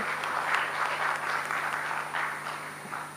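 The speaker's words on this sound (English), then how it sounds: "Another round of applause for our moderator, Ms. Wen." A live forum audience gives a steady, full round of applause, sustained dense clapping throughout with no voices over it.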